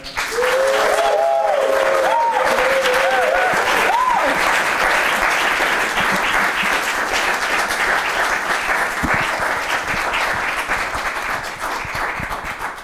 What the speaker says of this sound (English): Let's give a nice round of applause to Mr. Doug Lawler.